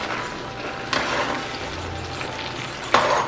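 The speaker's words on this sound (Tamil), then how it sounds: "ஸோ அவதானமாக இதை கிண்டுங்கோ. சைடெல்லாம் வலிச்சு கிண்டுங்கோ." Rice flour dodol cooking in a pan of oil, stirred and scraped along the sides, gives a continuous soft sizzle with occasional sharper scraping strokes, heard close and alone.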